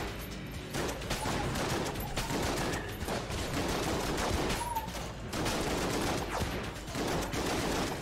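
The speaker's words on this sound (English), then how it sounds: "So we got this Magnum. I don't like that it sounds like a shotgun." Magnum revolver shots from the Enter the Gungeon video game, a booming shotgun-like blast fired repeatedly in quick succession, loud and continuous across the whole stretch with busy in-game effects and no talking.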